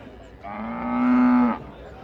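A cow mooing nearby: one long, loud, sustained low moo lasting about a second, heard alone over faint background noise.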